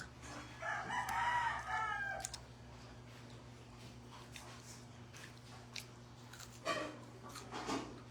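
A rooster crows once, moderately near, followed by quieter clucks and scattered faint noises over a steady low hum.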